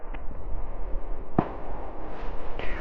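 Firecrackers going off nearby over a steady low outdoor rumble, with a couple of sharp, distinct bangs standing out among fainter pops.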